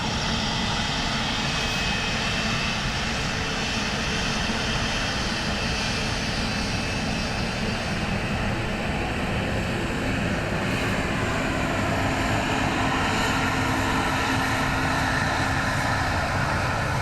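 A Ryanair jet airliner lands in low visibility on runway 28 left at Dublin Airport, its engines a steady, loud, broadband roar throughout.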